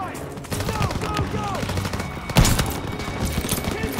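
Machine-gun fire in the World War II shooter Call of Duty: WWII, with rapid overlapping bursts and one sharp heavier blast, amid battle noise and shouting voices.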